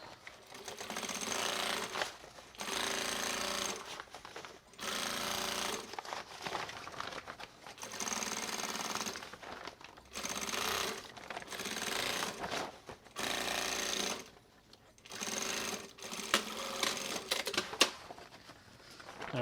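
Sewing machine stitching a simple shopper bag, running in repeated bursts of steady motor whir separated by short pauses, close and fairly loud with no talk.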